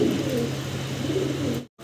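Pigeons coo softly and continuously, low rounded calls close by, ending with a brief silence.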